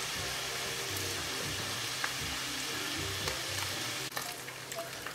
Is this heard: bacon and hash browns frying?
yes